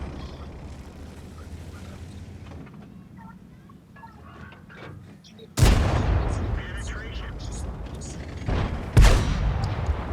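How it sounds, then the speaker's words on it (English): Shell impacts from artillery fire ricocheting off tank armor in World of Tanks ring out as two sudden loud booms a few seconds apart, each trailing into rumble, after a quieter stretch of battle ambience. "you can watch the rounds just start bouncing off me"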